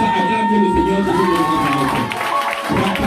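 A church congregation acclaiming and cheering for God, a mass of shouts, whoops and applause filling the hall under a sustained tone, loud and continuous.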